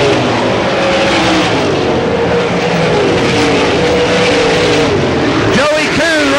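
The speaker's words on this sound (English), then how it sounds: "Bobby Landis and Bobby Strasser wheel to wheel as they head down the backstretch." Loud race car engines roar continuously as cars run wheel to wheel at Selinsgrove Speedway in 1989, with a commentator talking quickly over the engine noise.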